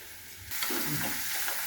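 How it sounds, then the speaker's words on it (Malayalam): Crushed ginger and garlic hit hot oil and burst into a loud, close sizzle that continues steadily with faint stirring scrapes. "ഇഞ്ചി വെളുത്തുള്ളി ഇതും കൂടെ ചേർത്ത് നന്നായിട്ട് ഇഞ്ചി വെളുത്തുള്ളി ഒന്ന് മൂപ്പിച്ചെടുക്കുക"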